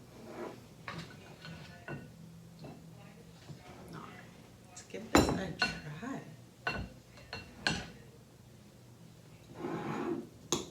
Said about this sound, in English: So I'm gonna just put some in my bowl